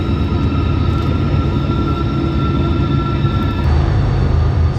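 A long freight train of roughly 140 to 200 cars moves through the spiral tunnels of Yoho National Park in British Columbia, producing a loud, continuous rumble with a faint steady tone and no voices.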